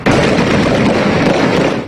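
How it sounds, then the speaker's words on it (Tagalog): Dense, rapid gunfire crackles and echoes in a loud, continuous burst during a 2017 military clearing operation against Maute fighters in Marawi, with no voices heard. "Umalingaw-ngaw ang putok ng mga baril."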